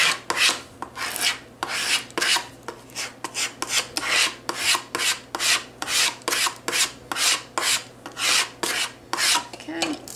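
Transfer tape pressed onto a Dollar Tree inspirational wall decor piece is scraped over and over, a close, rasping series of even strokes in a steady rhythm, with no voices.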